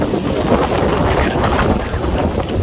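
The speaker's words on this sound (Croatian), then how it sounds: "Strašan vjetar i sve nekako" Strong storm wind during a violent rainstorm, a dense and steady roar buffeting the microphone for the whole stretch, with no voices.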